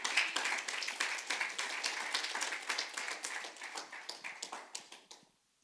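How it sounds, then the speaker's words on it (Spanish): A church congregation breaks into loud, dense applause, many hands clapping together in a rapid patter that gradually thins and fades out to quiet. "Dele un aplauso al Rey de Gloria."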